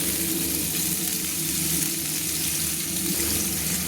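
Pieces of papaya fry in a pan for a Bengali papaya dalna, giving a steady, close sizzle with faint scraping as they are stirred, and no voices.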